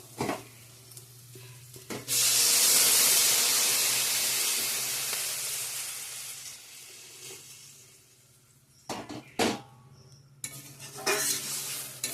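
Water is poured into a hot cooking pan, bursting into a loud hissing sizzle that slowly fades, followed by stirring and a few sharp clinks of a utensil against the pan.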